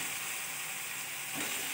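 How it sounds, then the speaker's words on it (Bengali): Spice paste with chili powder, cumin and garlic paste frying in a pan for a prawn dish, a steady soft sizzle and hiss close by with no talk. "মশলাটা ভালোভাবে কষিয়ে নেব।"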